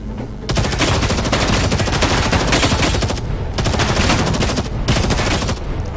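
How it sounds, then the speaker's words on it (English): A rifle in a space combat video game fires a loud, continuous rapid burst at a large ship thruster, the shots rattling almost without pause and ending in a short break near the end. "Let's pick our rifle and destroy this thruster over there."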